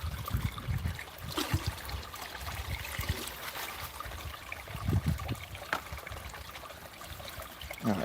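Water runs steadily through a gold sluice box on rich flat ground, a continuous trickling wash with soft low gurgles and occasional splashy bumps, close and unbroken with no voices.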